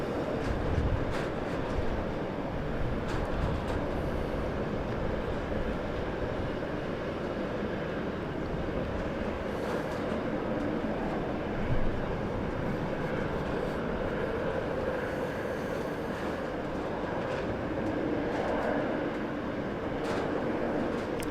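A heavy aircraft arrives at Heathrow Airport, making a broad, sustained roar that holds steady at moderate loudness through the whole span, with no voices present.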